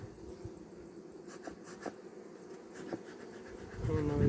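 Bees buzz steadily from an opened hive while colonies are being combined, a close, continuous hum with scattered sharper buzzes of individual insects passing near, swelling louder toward the end.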